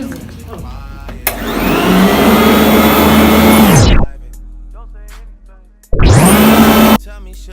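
A Gazelle vacuum cleaner whirs loudly for about three seconds, winds down, then starts again in a short second burst, with quiet gaps and faint sounds between the runs.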